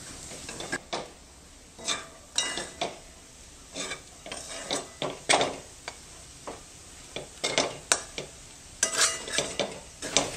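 Moong dal roasting in ghee on a low flame for halwa, a spoon scraping and stirring against the pan in irregular strokes over a soft, steady sizzle, close and moderately quiet.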